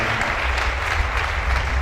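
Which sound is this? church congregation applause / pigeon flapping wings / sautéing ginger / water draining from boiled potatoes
church congregation applause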